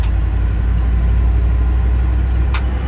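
A truck fitted with Super Duty axles being driven, a steady low engine drone and road rumble close up, even and continuous, with a brief high squeak near the end and no talking.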